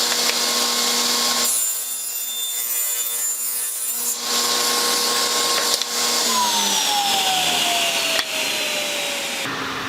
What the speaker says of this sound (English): I'll move my fence over 1/4 inch at a time, which is going to give me 1/8 inch wide strips off of this